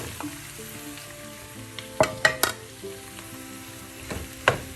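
Chopped three-colour capsicum hitting a hot pan over high flame, a steady sizzle with a few sharp clattering knocks of a spatula against the pan, close and clear with no speech.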